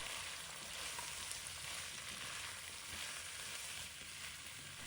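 Duck stir-fried with pickled cabbage in a wok, a continuous faint hissing sizzle holding steady throughout with no distinct stirring strokes or voices.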